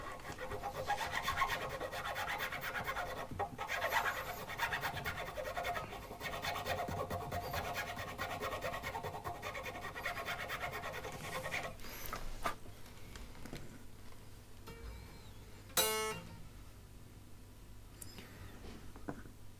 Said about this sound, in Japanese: 溝のですね幅を弦に対してぴったりになるように、しながら削ってます